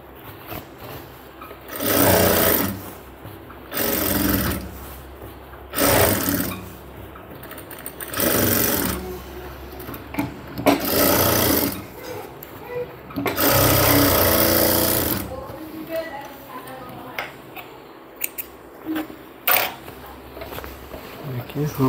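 A sewing machine stitches a cargo half pant in repeated loud bursts of rapid needle clatter, each lasting a second or two, with quieter pauses and handling noise between runs.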